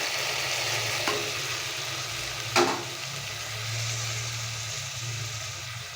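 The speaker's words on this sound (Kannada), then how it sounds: "ಇವಾಗ ಇದನ್ನು ಈರುಳ್ಳಿಗೆ ಹಾಕಿ ಸ್ವಲ್ಪ ಫ್ರೈ ಮಾಡೋಣ ಚೆನ್ನಾಗಿ" Marinated bitter gourd frying with onions in a pan, a steady close sizzle with a couple of sharp clatters from a utensil.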